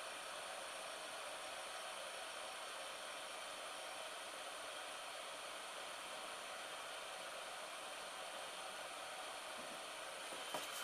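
A heat gun runs steadily with a constant hiss while shrinking heat shrink tubing over a soldered cable during a DCC decoder conversion on a small model locomotive, loud and close throughout, with no talk.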